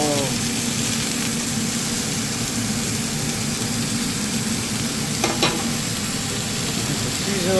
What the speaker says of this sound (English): It's a sizzle.